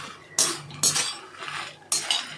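Dried red chillies are stirred as they fry in a pan for idli podi, with three loud, close scraping sweeps of a metal spoon against the pan over a faint background.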